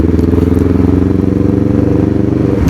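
A Honda CBR motorcycle engine runs steadily while riding on a Sunday group ride, a loud, continuous low drone with rhythmic pulsing and a faint clatter throughout.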